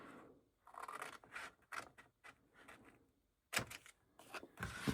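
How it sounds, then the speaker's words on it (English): Scissors cutting paper beside a score line on a file folder, a run of soft, close snipping and crisp rustling strokes, some bursts louder than others, with a brief quiet pause partway through. "we want to cut to the left of that score line, just a smidge"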